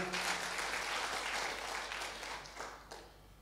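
A congregation claps enthusiastically during a Sunday church service at GBI Altar Filadelfia in Jakarta, a steady, moderately distant roll of applause that tapers slightly near the end.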